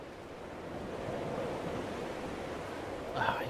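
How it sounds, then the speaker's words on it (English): Ocean waves in Dear Esther, a steady soft wash of surf and wind that swells slightly midway, with a faint brief sound near the end and no talk. "Ah, you can almost feel the ocean breeze."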